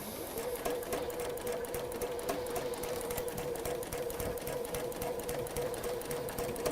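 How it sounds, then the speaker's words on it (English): A sewing machine stitching steadily along a line, its fast even needle clatter and motor hum continuous and close throughout, with no talk. "sew on the line."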